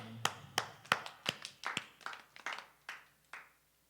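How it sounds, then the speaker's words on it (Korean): About a dozen sharp claps from a church training class audience land one after another at a steady, unhurried pace, fading a little toward the end. "박수하겠습니다"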